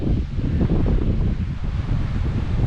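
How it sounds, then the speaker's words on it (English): Strong, steady wind roars and buffets on Great Keppel Island, Queensland, heavy low rumble filling the whole stretch with no pauses. "It's crazy windy up here."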